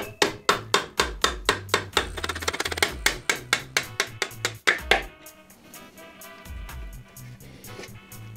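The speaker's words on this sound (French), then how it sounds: "Puis, à l'aide d'un tournevis et d'un marteau," A hammer strikes a screwdriver to drive out the center kickstand axle of a motorcycle during crankshaft replacement, a steady run of about twenty sharp metallic knocks, close and loud, then stopping into quieter clatter.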